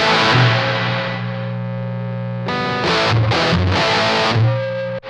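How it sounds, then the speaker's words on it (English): A distorted electric guitar through a Donner Black Devil pedal, a Peavey 6505 clone, sustains loud chords with a reverb wash behind them, the strums changing in short rhythmic bursts. "So you hear there's a little reverb on."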